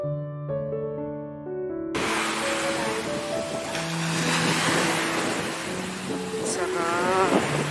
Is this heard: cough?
no